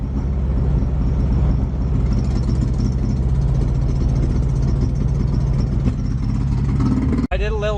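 A car engine idles loudly and close, a steady low rumble with a slightly uneven beat after an ignition timing adjustment, cutting out abruptly near the end.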